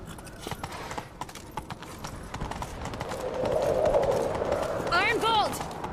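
Galloping hoofbeats of Geralt's horse Roach in The Witcher 3, rapid rhythmic thuds over a rising rush of movement, with speech-like voices and a short whinny-like cry near the end.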